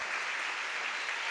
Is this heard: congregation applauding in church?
yes